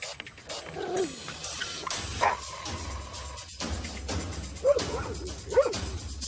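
A dog barking in an outdoor park, several sharp separate barks and yips spread across the clip, heard mixed in with background chatter and ambient noise.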